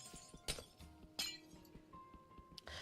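Minecraft glass blocks shattering, two crisp breaks about three-quarters of a second apart and a third starting at the end, over quiet game ambience, with no speech.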